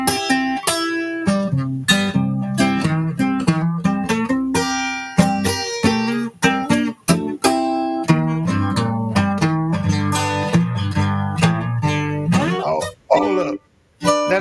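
An electric guitar plays a loose blues-style riff of plucked notes and chords in a continuous rhythmic run, close and clear, with a few brief pauses and bends near the end.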